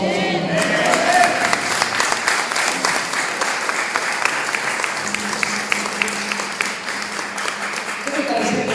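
A church congregation breaks into loud, sustained applause that runs the whole time, thick and crowd-wide, with a faint low musical tone entering later.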